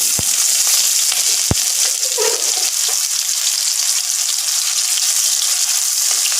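Chopped onions fry in a pan with a loud, steady, close sizzle, broken early by two sharp utensil taps and a brief stirring scrape, with no talking.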